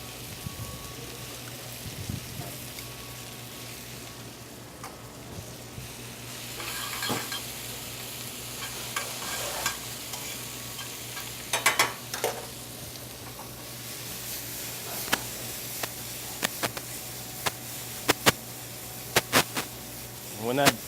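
Grouper fries in a pan with garlic butter and herbs (chervil, chives, tarragon, parsley), giving a steady soft sizzle with scattered pops and utensil clicks that grow busier later on.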